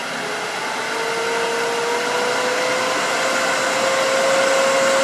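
Wood lathe running at high speed to cut wood threads with a threading jig, a steady loud whining hum with a tone that rises slightly as it spins up, alone without talk.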